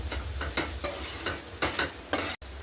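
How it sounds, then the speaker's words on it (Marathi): Boiled chickpeas are sautéed in masala for chole, a spoon repeatedly scraping and tossing them through the pan in a steady rhythm over a continuous low sizzle. "आता हे छोले मसाल्यामध्ये 1 मिनिटभर छान परतून घेऊ"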